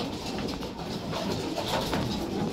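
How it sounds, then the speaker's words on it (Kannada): Pigeons coo steadily and close by in a loft of old-line pigeons kept for sale in Bangalore, with soft overlapping calls running continuously. "ಆಮೇಲೆ ಮೇಲೆ ಎಲ್ಲ ಐತೆ ಪಾರಿವಾಳ"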